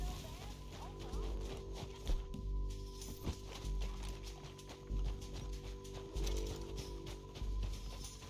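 Horse hooves clip-clop in Red Dead Redemption 2, a faint rhythmic series of steps under low ambient music and occasional louder thumps.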